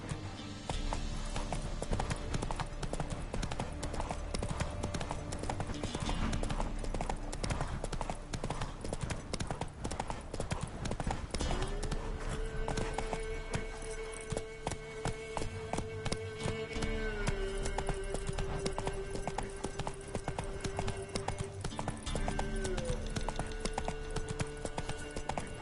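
Hooves of Roach, a horse in The Witcher 3, clip-clop in a quick, steady rhythm over a soft background score, the beat continuing unbroken, close but fairly quiet, with no talking.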